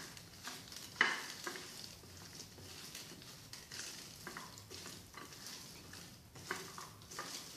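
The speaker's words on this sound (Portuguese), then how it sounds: "Aí vamos misturar bem." Beef skewer meat being mixed by hand with garlic, Bahian seasoning and coarse salt, giving soft repeated wet squishes and stirring sounds with gritty patter, moderately close and fairly quiet, with no talking.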